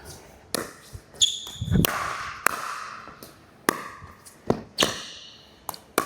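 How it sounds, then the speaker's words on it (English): Sharp pops of a pickleball striking a paddle, several spaced hits, with high squeaks of sneakers on a pickleball court and brief voices in between. "When you hear the ball on my paddle, you're going to hear sneakers squeaking."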